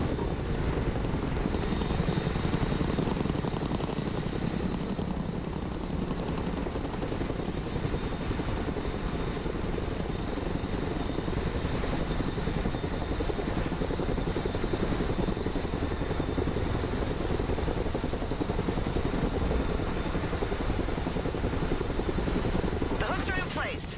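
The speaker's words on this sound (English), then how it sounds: "Let's go and recover it with our helicopter." A helicopter in the video game Broken Arrow thrums steadily throughout, a constant rotor and engine roar with no pauses.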